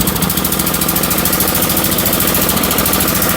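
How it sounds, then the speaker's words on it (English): A snowblower engine runs steadily and loudly close by, with a fast, even chugging pulse and no voices over it. "This is a good running machine."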